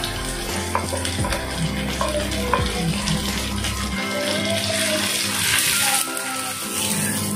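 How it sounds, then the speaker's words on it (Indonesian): Dried shrimp (ebi) sautéing in a pan gives a continuous close frying hiss with stirring scrapes. A running-water wash and low hum sit underneath. "aku masukin dulu ebinya. Nanti ditumis lagi sampai benar-benar harum gitu loh, Mam."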